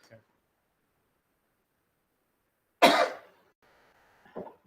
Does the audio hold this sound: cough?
yes